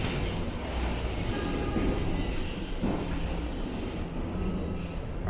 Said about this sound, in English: There's a non-service train on the opposite platform. I can hear it, but I can't see it.